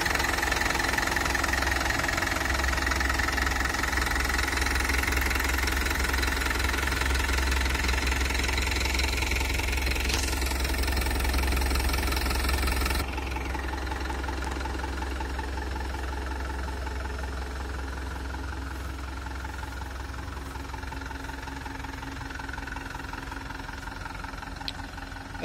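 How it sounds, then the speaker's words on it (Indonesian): A Hino Dutro 136 HDX Euro4 diesel truck engine idles with a steady, smooth low rumble. It runs continuously and alone, with no voices, and eases slightly quieter partway through. "suara mesin dari Hino Dutro 136 HDX ini"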